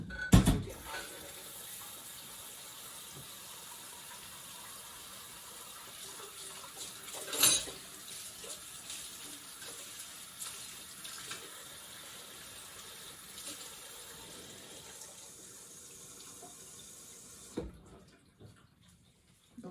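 A kitchen tap runs in a steady, moderately quiet stream while fry bread dough is being made, with a couple of brief clunks along the way, before the water cuts off near the end.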